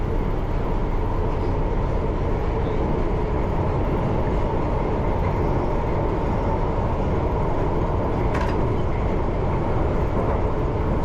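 A London Underground Piccadilly Line train runs steadily with a loud, continuous rumble and rattle of wheels on track. No voices are heard.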